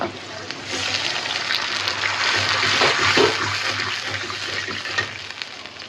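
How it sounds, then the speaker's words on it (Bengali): Water poured into a frying pan of fried spice paste splashes and sizzles steadily, a hissing wash of liquid hitting the hot pan, loud and close throughout. "একটু পানি দিয়ে দিলাম।"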